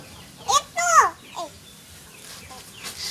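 Chicks peep in a few short, high chirps near a child, with faint voices around them.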